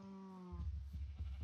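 Minecraft sheep bleating once, a clear wavering tone held for about half a second, followed by low rumbling game ambience and soft thumps.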